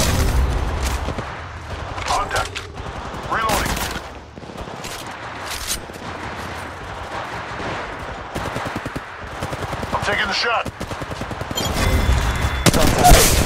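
Rapid gunfire bursts and shots from Apex Legends battle royale combat, loud and repeated across the whole stretch, mixed with game effects and occasional callout voices.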